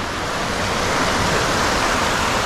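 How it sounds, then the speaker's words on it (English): Rainwater running off a street pours into a creek, a steady, loud broadband rush of flowing water with no pauses and no voices. "all the rainwater from the street goes into this creek now"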